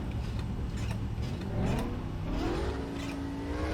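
A race car engine in a sim racing game, running steadily and then rising in pitch as it revs up before settling, fairly faint, with no talk.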